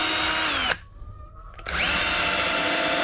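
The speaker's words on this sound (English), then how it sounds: "I've got two drills going here. Two drills. So one for drilling the holes." A power drill whines loudly and continuously while pre-drilling holes in wood, cuts out briefly, then spins back up at full speed, close by.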